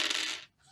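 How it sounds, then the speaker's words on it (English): Heavy dice clatter onto a tabletop during a tabletop role-playing game, a single bright rattling tumble that dies away quickly, close and fairly quiet. "Those were heavy dice, too."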